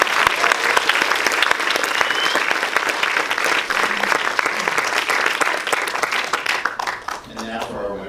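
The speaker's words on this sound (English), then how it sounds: "So let's have a round of applause." Dense, loud applause from an award ceremony audience fills the hall steadily for about seven seconds, then thins into scattered claps and fades near the end.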